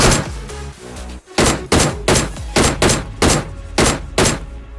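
Loud bursts of PUBG Mobile gunfire, about nine sharp shots or short volleys in an uneven rhythm, with a rumbling engine-like hum beneath.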